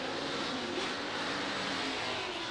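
A drift car's engine at Formula Drift Japan qualifying at Ebisu, a loud continuous roar of a high-revving engine held steady throughout, dense and broadband with no talk over it.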